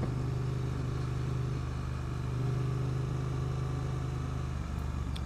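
A Triumph Street Twin 900 motorcycle runs steadily while being ridden, its low engine drone and wind rush holding at an even, loud level throughout.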